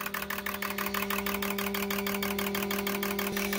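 A fuel injector tester and cleaning machine running an idle test on GDI injectors produces a fast, even train of clicking pulses over a steady electrical hum, faint and mechanical, with no talking.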